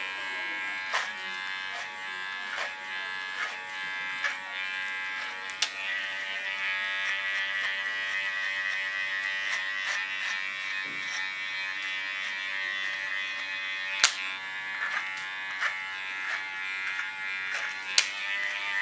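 A high electric hair clipper buzzes steadily at close range while cutting a short pixie haircut, its tone shifting slightly as it moves through the hair, with a few sharp clicks.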